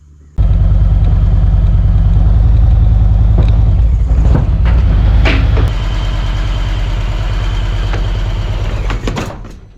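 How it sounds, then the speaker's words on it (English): A motorcycle is loaded into a trailer fitted with a wheel-clamp bar. The engine kicks on and idles loud and near for several seconds, a low steady rumble with a few metallic knocks, then it fades out at the end. "Next thing to do is get the bike in the trailer."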